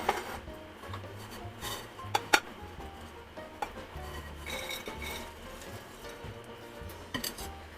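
Cooked black chickpeas are scraped and moved from a hot kadhai into a dish, with metal utensil scrapes and occasional sharp clinks at close range.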